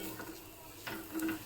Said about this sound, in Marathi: त्यानंतर यामध्ये भाजलेल्या शेंगदाण्याचा कूट घालून घ्यायचा आहे आणि सगळं मिश्रण एकजीव असं परतवून घ्यायचं आहे